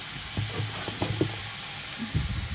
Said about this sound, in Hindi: अच्छे से भून लेना है पहले इसको इस तरीके से। अब मैं इसमें डालूंगी ब्लैक पेपर।